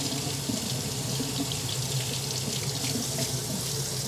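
Tap water pouring steadily into a sink while a handful of spinach is rinsed for keto scrambled eggs, a continuous close splashing rush with no pauses.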